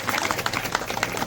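Hand claps from a small group at a family haldi-kunku ceremony, quick uneven claps repeating close by through the moment with no one speaking.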